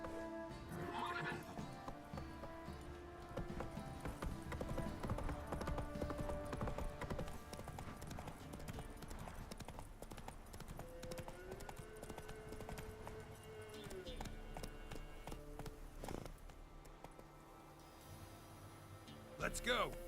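Hooves of the horse Roach in The Witcher video game clip-clop in a steady galloping rhythm, with whinnies and neighs breaking through amid game music and ambience, and a voice speaking briefly.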